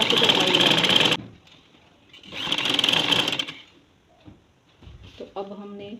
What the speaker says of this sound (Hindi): अंदर की तरफ फोल्ड करके तो ये हमने इधर सिलाई लगानी है।